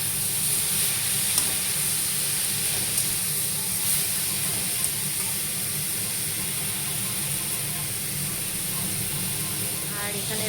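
Spinach frying in a pan with onion, garlic and green chilli gives a steady, close sizzle and hiss that runs unbroken throughout, with faint stirring clinks and no speech.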